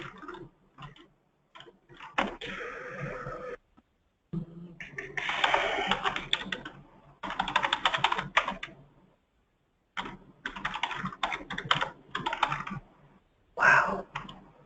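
Keys clatter on an unfamiliar computer keyboard in an office conference room, bursts of quick close tapping separated by short pauses, under a low background hum.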